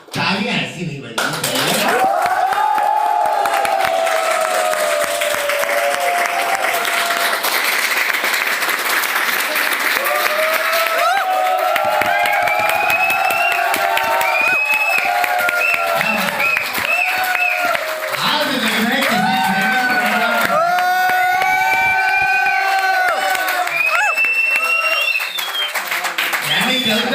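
A large audience at a live speech in Ahmedabad bursts into loud, sustained applause and cheering, with whoops and shouted voices rising above dense clapping throughout.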